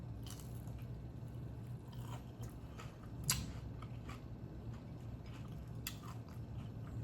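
Crispy fried zucchini is bitten and chewed close up, a steady run of crunchy bites and squishy chewing with a few sharper snaps, no talking.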